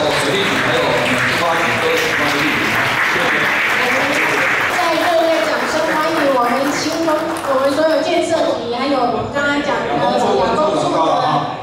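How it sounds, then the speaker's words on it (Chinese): Loud applause from an audience at an official ceremony welcoming city government officials, dense clapping at first that thins out as a voice starts talking over it through the second half. "那是不是大家现场再掌声鼓励一下"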